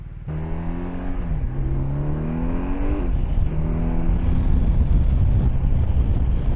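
A 2022 BMW R1250 RT motorcycle pulls away and rides off, its engine note rising through the gears with clear pitch climbs and a dip at each shift, loud and close, with no talk.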